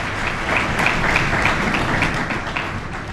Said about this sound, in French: Une initiative qui peut être encouragée une fois de plus par des applaudissements.